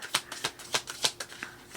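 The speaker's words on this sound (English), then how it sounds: "We're going to shuffle 3 times and take off what comes on top." Tarot cards are shuffled by hand in a quick run of crisp riffling snaps, about a dozen close, sharp bursts in uneven rhythm.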